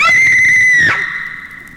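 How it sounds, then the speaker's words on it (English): A girl shrieks in a high school biology classroom in 1965. The long, high, piercing scream holds steady, then breaks and trails off into a wavering lower cry. No talk is heard. "we hear in Mr. Hillier's biology class a girl screaming"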